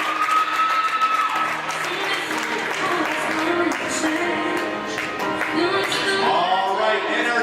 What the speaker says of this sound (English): Give a round of applause for the Cardinals.